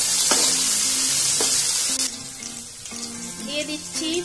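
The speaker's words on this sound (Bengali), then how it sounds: "পেঁয়াজের সঙ্গে ভালো করে ভেজে দিব" Cut potato pieces frying together with onions in a pan for a potato and katla fish curry, a bright sizzle with a few clinks and stirring knocks, softening toward the end.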